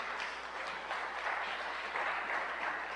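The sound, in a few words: congregation applauding in church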